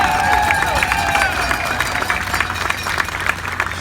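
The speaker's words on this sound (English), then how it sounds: "Can I get a round of applause for all of them?" A crowd at an outdoor Recall Newsom rally in San Diego gives sustained clapping and cheering, a dense, close wash of applause with scattered voices, easing slightly toward the end.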